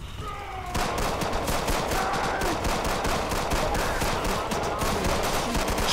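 Enemy shotguns blast in the zombie shooter Left 4 Dead 2, a sudden, loud, rapid barrage of overlapping shots that starts abruptly and keeps hammering without pause.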